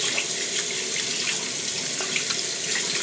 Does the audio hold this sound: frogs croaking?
no